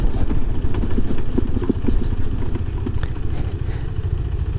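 KTM 390 Adventure motorcycle ridden off-road on a Utah backcountry trail, a loud close engine drone with rough rumbling and clatter from the terrain, steady throughout.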